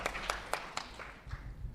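Scattered clapping from an audience at a developer conference talk, a few distinct claps fading out, followed by low rumbling room noise.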